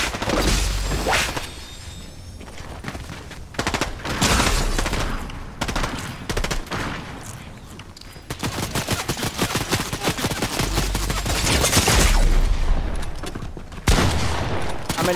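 Gunfire in a Fortnite zero-build duos match, with shotgun, assault rifle and sniper shots: sharp bursts and rapid volleys that come and go over about fifteen seconds, some loud and close, others thinner and farther off.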